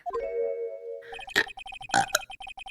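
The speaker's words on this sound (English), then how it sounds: "That was a terrible burp." A single person's burp: a drawn-out, tonal belch lasting about a second, followed by bursts of a game's chiming text blips and music, moderately loud and close.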